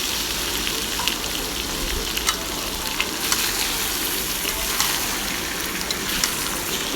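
Chicken that has already been cooked, frying in a pan with onion and garlic, gives a steady sizzle that runs the whole time, with light scraping and stirring clicks over it and no talking.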